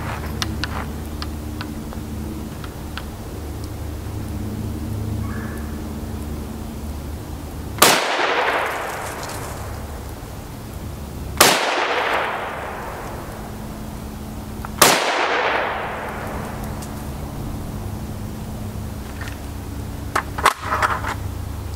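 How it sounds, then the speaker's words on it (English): PS90 firing 5.7x28mm rounds on new-manufacture Elite Ammunition brass at a range, three loud sharp shots spaced a few seconds apart, each leaving a brief echoing tail. "We'll take 3 shots of the PS90 from here."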